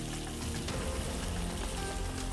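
Spices and about four or five kaffir lime leaves sauté in a pan, giving a steady, close, broadband sizzle with faint crackles throughout and no talking.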